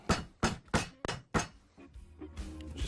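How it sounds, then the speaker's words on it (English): A rubber mallet taps plastic wall anchors into drilled holes, giving five sharp, close knocks in an uneven rhythm followed by quieter handling sounds. "I'm just going to tap those in with a mallet."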